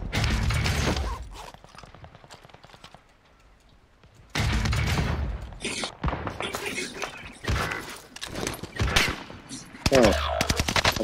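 Rapid video game gunfire rattles in loud bursts, drops to a quiet lull, then returns with dense shots and mechanical clacks, while players talk over the action.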